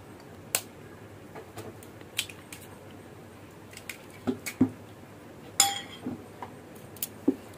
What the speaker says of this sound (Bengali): আর এখানে ডিম আমি ফেটিয়ে নিচ্ছি, 2টো ডিম নিয়েছি। এরকম একটা কাঁটা চামচ দিয়ে ফেটাবে